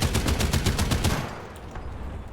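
A .50 caliber machine gun fires in War Thunder, a rapid, evenly spaced burst of heavy shots up close that cuts off midway, leaving a rumbling engine-like background.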